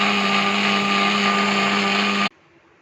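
A mixer grinder whirs loudly at a steady pitch for about two seconds while blending fruit juice without water, then cuts off abruptly into near silence.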